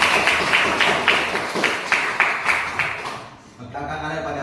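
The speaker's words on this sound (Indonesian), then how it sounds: "Berikan tepuk tangan." A small group gives rhythmic applause, roughly regular claps in a steady beat that fade out near the end, followed by a voice speaking.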